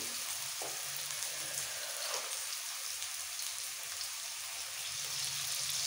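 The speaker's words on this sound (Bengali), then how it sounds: "তেলের মধ্যে একটু নাড়াচাড়া করে দিয়ে দেবো সামান্য একটু নুন আর হলুদ।" Okra and potato fry in oil with a soft, continuous sizzling hiss, quiet and even throughout with no voices.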